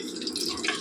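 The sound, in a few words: pouring oil into a pan for chammanthi podi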